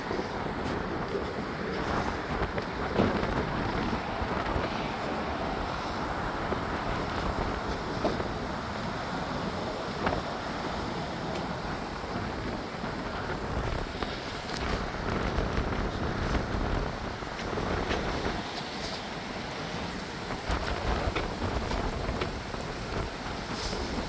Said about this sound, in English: I think it's starting to rain a little bit too.